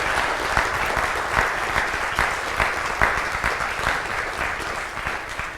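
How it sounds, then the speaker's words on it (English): Steady, sustained audience applause at a university speaker event, many hands clapping evenly at moderate volume with occasional sharper claps standing out, no talking over it. "Please join me in a round of applause for Phil Lind."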